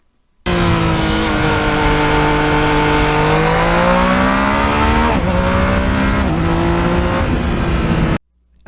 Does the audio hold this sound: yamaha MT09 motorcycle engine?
yes